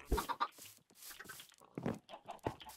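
Chickens clucking in Minecraft, several short close clucks and squawks in uneven bursts, fairly quiet.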